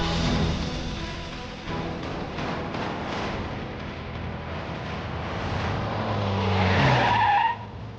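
A car arrives with tires squealing and skidding as it pulls in, the engine noise and screeching holding steady for several seconds before rising near the end and cutting off sharply as it stops.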